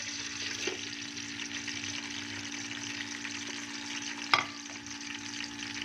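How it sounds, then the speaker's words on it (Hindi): Onions go into a cup of hot oil in a pot for Punjabi-style aloo gosht, producing a steady, moderately loud sizzle throughout with one sharp metallic clink near the end. "ऑयल हमारा गर्म हो चुका है, इसमें हम प्याज डालेंगे।"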